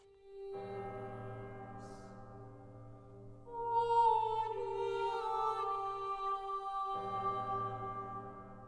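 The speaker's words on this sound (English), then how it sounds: "that's the sound of the bell from Joan of Arc's church itself." A deep bell tolls with long, sustained ringing tones layered over each other, resonant and steady, swelling midway before settling.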